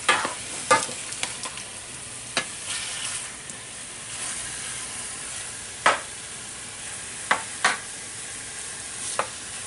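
Beef filet mignon searing in a hot pan gives a steady, bright sizzle throughout, broken by a few sharp pops and scrapes as the meat is stirred or moved.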